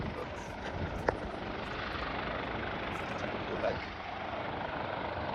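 Steady broadband rotor and engine roar of a helicopter flying overhead near Mount Hollywood summit in Los Angeles, loud and continuous, with wind noise throughout.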